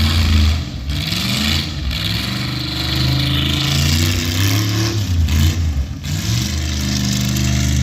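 An Oldsmobile Cutlass V8 with headers runs loud and close, a deep steady rumble with a few throttle blips and rises in revs throughout, with no talk over it.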